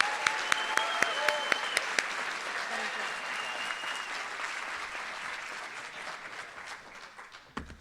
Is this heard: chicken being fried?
no